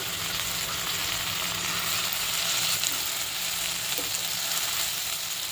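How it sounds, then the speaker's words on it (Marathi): Finely chopped tomato frying with onions in a pan makes a continuous, even sizzle up close, loud and unbroken, with no voices. "आता त्यात टोमॅटो टाकते, 1 बारीक चिरलेला टोमॅटो."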